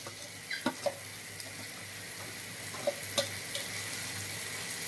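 Quiet frying sizzle of bitter gourd in a pan, with no water added, a few light clinks and taps near the start and middle, faint and steady.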